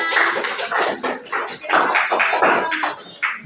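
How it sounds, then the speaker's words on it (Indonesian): A classroom group claps hands in rhythmic unison, close and bright, with about a dozen sharp, evenly paced bursts of claps one after another. "Oke, tepuk tangan."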